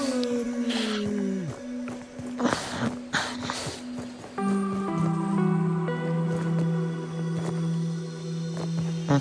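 Watery squishing and dripping in the survival game Grounded, wet bursts and gurgles over a steady tonal game drone, with a voice speaking briefly.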